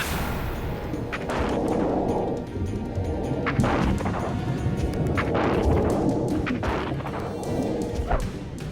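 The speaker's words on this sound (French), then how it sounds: "on va faire une salve d'honneur pour Fitch et Gordon" Several sharp, loud cracks of an honor guard rifle salute volley ring out at irregular intervals over a dense, rumbling background, each with a brief echoing tail.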